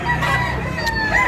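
Large roosters and chickens at a Cebu poultry market crow and cluck close by in a brief, loud burst of overlapping calls.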